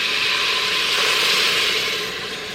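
Onion sautéing in an Instant Pot, a steady, fairly loud broadband sizzle and hiss that eases slightly toward the end, with no talking.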